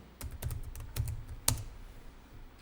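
Computer keyboard typing during accounting software entry, a quick run of light key clicks with one sharper keystroke such as the Tab key, close and clear with no talk.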